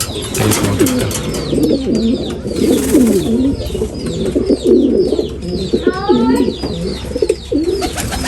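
Pigeons in a loft coo close by in repeated throaty rolling phrases, overlapping one another, with brief chirps and a soft wing flutter mixed in.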